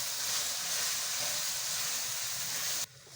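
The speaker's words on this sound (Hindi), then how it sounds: "इनको हम थोड़ी देर के लिए फ्राई कर लेते हैं अच्छे से" Vegetables frying in a pan for creamy chicken jalfrezi, a continuous loud close hiss and sizzle that cuts off abruptly near the end.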